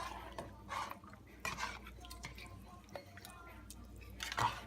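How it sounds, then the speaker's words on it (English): A spoon stirs stew chicken in a pot, giving soft wet scrapes and squishy sloshing in a few slow, quiet strokes. "And you just stir that up a little bit more, make sure it's all, again, evenly distributed."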